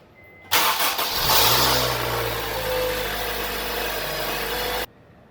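An Acura RSX engine starts right after a serpentine belt install, cranking briefly then catching into a steady, loud idle close by that runs several seconds before cutting off.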